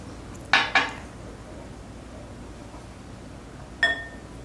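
A spoon clinks against a container while stirring salt into very hot water: two quick bright clinks close together, a pause, then one more, in an otherwise quiet room.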